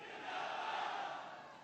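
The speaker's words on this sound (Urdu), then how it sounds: "میرے ساتھ مل کے نعرہ لگائیں" A rally crowd roars and chants political slogans in one continuous, dense wall of many voices, fairly loud and sustained from start to finish.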